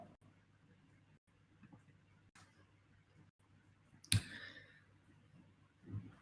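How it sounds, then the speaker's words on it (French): A single sharp mouse click on a Plan button in field service scheduling software, standing out against a quiet room background with faint surrounding noise. "je vais cliquer sur Planifier maintenant"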